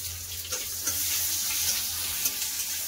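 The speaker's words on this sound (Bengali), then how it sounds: "পেঁয়াজ লাল করে ভালো করে ভাজা হয়ে গেছে" Chopped onion fries in mustard oil with dried red chillies, a bay leaf and five-spice, sizzling and crackling continuously at close range with a few sharper spits and stirring scrapes.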